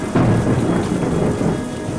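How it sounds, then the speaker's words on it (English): A thunderstorm with a loud rumble of thunder rolling over heavy, steady rain, close and full, no one speaking. "and a path for the thunderstorm"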